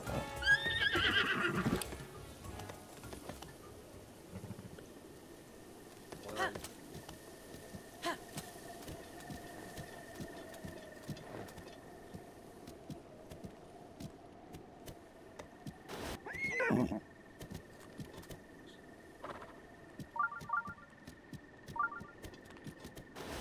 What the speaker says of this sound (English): Come on, you horse.